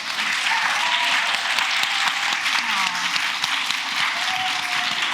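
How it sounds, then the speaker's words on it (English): An audience at the Cambridge Union gives a big round of applause for a guest, a loud, sustained, dense roar of clapping that fills the room evenly from start to finish. "Please give Ekin a big round of applause."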